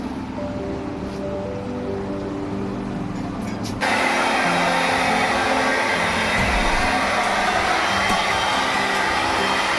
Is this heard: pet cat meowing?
no